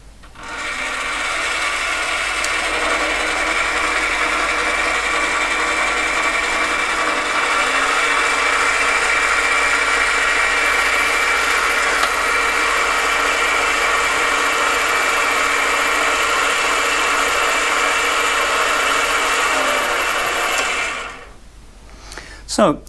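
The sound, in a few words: mini lathe motor running, cutting tool facing material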